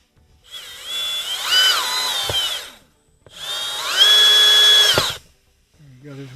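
Cordless Milwaukee power drill driving Phillips head screws, two sustained whirring bursts of about two seconds each with rising pitch, close and loud, separated by brief pauses.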